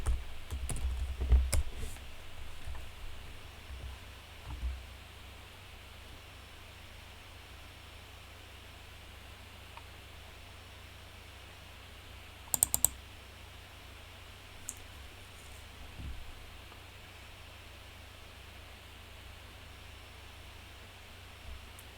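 Soft, sparse keystrokes tap out a password on a computer keyboard, a quick cluster near the start and a few isolated clicks later, all faint against quiet room hiss.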